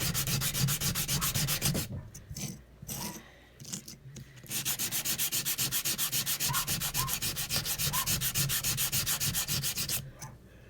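A hand-held 80 grit sanding block rubs back and forth over a wooden blank in steady, close, loud rhythmic strokes, with a few brief pauses between passes and no voices.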